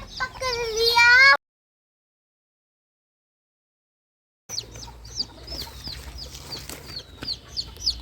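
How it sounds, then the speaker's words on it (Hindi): A hen clucks among her chicks, with rapid chirping peeps and soft clucks close by. A loud clucking burst comes first, then a gap of silence, then busier chick cheeps over faint background noise. "मुर्गी के टिकलू टिकलू बेबी है वो देखने के लिए।"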